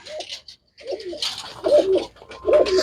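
A pigeon coos close by in short soft bursts, a few throaty calls separated by brief pauses, with faint rustling around it.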